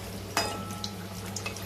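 Khari patties frying in a pan on a medium flame give a steady low sizzle, with one sharp clink of a utensil as a patty is flipped and a few faint taps afterward, close and alone.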